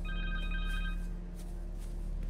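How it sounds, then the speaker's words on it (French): A telephone rings in the video game Spider-Man 2, a steady electronic ring with a repeating tone over a constant game-ambience hum, with no voices. "Téléphone."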